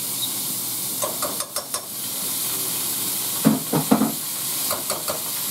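Butter and flour mixture sizzling in hot oil in a pan on the stove, a steady frying hiss broken by a few brief clatters and stirring knocks.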